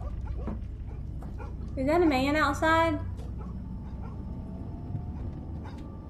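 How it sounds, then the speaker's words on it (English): A dog barks and yips outside the house in the horror game Fears to Fathom, a few short tonal yelps in quick succession with someone talking before and over them. "That's a dog outside."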